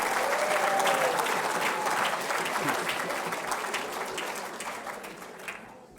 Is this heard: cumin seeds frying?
no